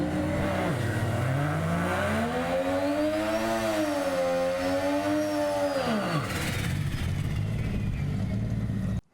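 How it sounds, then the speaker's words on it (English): Naturally aspirated four-rotor Mazda rotary engine revving hard, a loud buzzing drone that climbs, holds high and falls back in one long sweep, then settles to a rough steady run before cutting off, with no voices. "This is the pinnacle of Mazda's rotary engineering. Those are 4 rotors, but naturally aspirated."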